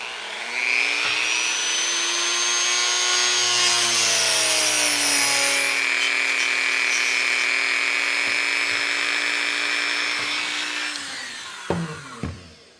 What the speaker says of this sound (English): Go ahead and turn on the Dremel. We're going to make a nice clean cut.